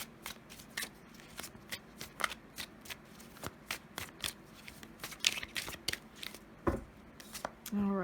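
A Cosmic Tarot deck of cards is shuffled close up, producing a string of quick crisp riffling flutters in irregular rhythm, with a brief voice near the end.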